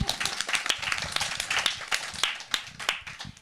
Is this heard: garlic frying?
no